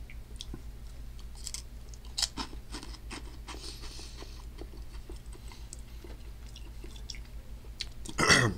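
Someone chews crunchy Hell Puffs hot candy in a spicy-candy challenge, a close run of soft, rhythmic crunching and mouth sounds with no talking.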